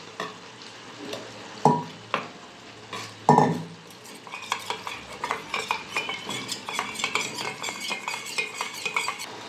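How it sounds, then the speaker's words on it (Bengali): A spoon stirs a teaspoon of cornflour into water in a small bowl, for Bengali chili paneer: a few sharp clinks, then a quick, steady run of rapid scraping taps against the bowl, close and clear. "বাটির মধ্যে 1 চামচ কর্ন নিয়েছি, কর্নটা গুলে দিয়ে দেবো।"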